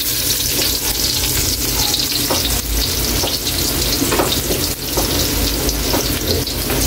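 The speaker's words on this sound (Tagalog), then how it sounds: "Kayli, lagay na natin dito yung bawang natin. Ilagay na rin natin Kayli yung sibuyas" Garlic and onion frying in hot oil in a pan for pancit, a loud, dense, continuous sizzle and crackle heard up close, with occasional stirring scrapes.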